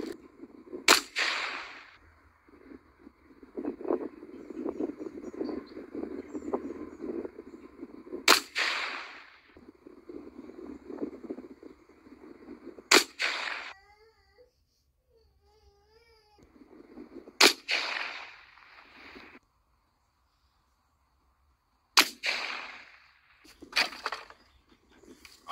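A Remington 22-250 rifle fires at small and large bottles outdoors, six sharp, loud cracks spaced several seconds apart, each ringing out briefly, with a low rumble and quieter gaps between shots.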